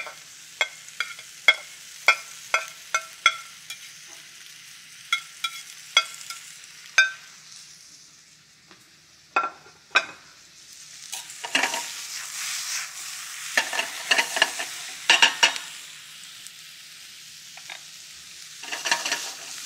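Garlic, tender vegetables and diced tomato sizzle softly over low heat in a pan while a utensil stirs, first with a regular series of sharp taps and scrapes, then a busier stretch of clatter over the sizzle, and no talk.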